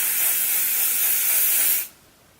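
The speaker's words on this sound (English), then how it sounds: "pick my hair up like this and spray like up." Hairspray hisses onto curly hair in one steady, close burst of nearly two seconds, then stops into quiet.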